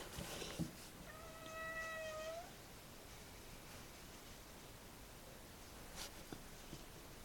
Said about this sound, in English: So apologies about the kitty cat.